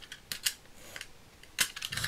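Card stock being cut with a paper trimmer while making a shabby-style Mother's Day card, heard as a few sharp, close clicks and slicing snaps with quiet gaps between them.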